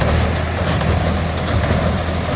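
A Gallignani 3690 baler pulled by a New Holland TT55 tractor works in a field, a loud steady mechanical drone with low engine rumble and no clear pauses, heard close.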